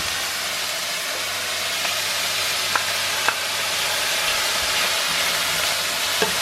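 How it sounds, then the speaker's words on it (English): Minced garlic and mushrooms fry in oil in a pan for a stroganoff, giving a steady close sizzle with a few faint clicks of a utensil and no talking. "So just after a couple of seconds of the mushrooms being added, you're just adding the garlic now"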